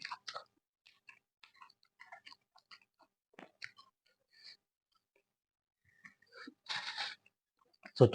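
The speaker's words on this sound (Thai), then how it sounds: "น้ำพริกปลา กินกับหมูยอพริกไทยดำหมูสุดยอดอีครับ กินกับปักหลวกหลายอย่างครับ" Someone chews close up on Thai chili fish dip with black-pepper pork sausage and vegetables. The soft wet crunching and bites come in sparse, irregular bursts, with a louder crunch near the end.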